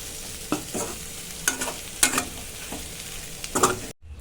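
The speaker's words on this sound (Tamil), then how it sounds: "இது எல்லாத்தையும் கிண்டி விட்டு நம்ம இறக்கிக்கலாம்." Raw banana curry being stirred in a pan, with scraping spoon strokes and soft sizzling at irregular intervals, close and moderately quiet, ending in a sudden cutoff.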